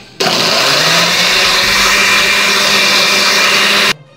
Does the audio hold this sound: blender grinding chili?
yes